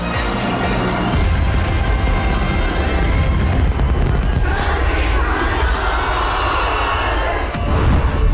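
Fireworks burst over Hong Kong during a New Year celebration, a dense, continuous roar of booms and crackles with crowd noise, loud and sustained throughout.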